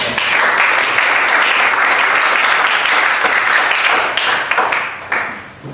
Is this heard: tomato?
no